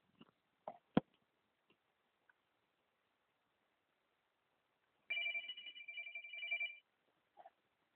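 A telephone rings once on an outgoing call, a single electronic ring burst of about a second and a half heard faintly and up close in a quiet room, preceded by a few soft clicks and taps.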